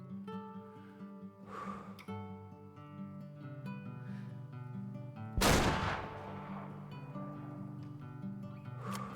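A single sharp hunting-rifle shot at an albino chamois in the video game Way of the Hunter cracks loudly midway, over a quiet, steady background of game music.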